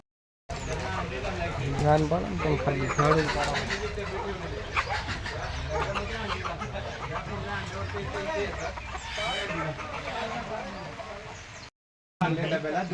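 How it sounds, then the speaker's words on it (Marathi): Loud guinea fowl calls, harsh and repeated, with clucking country chickens and occasional dog barks mixed in under people talking nearby on a poultry farm. "गिने फॉल आहे"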